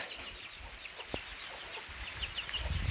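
A hen sheltering her chicks under her wings clucks softly in a small forest tribal village as light rain begins, with faint clucks and chirps over a steady outdoor background hiss and no talk.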